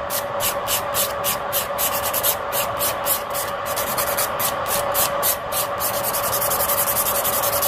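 Fingernails are shaped with a hand nail file in quick, regular back-and-forth strokes. The dry, close rasping rhythm repeats steadily for several seconds, then the strokes turn softer and more continuous.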